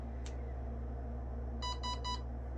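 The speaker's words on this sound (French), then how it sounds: "la réplique bip" An M4 Major One Pro airsoft replica emits three quick electronic beeps as its battery is connected, heard over a steady low hum with no talking.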